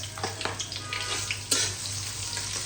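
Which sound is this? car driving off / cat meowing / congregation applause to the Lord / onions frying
onions frying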